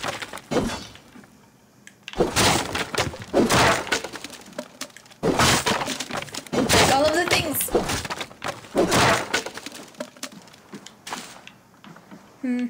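Axe smashing crates and objects in Assassin's Creed Valhalla, a run of loud, close cracking and breaking impacts in separate bursts, with game voices talking between and over them.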